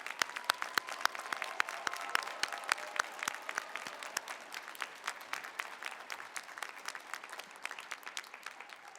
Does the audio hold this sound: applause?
yes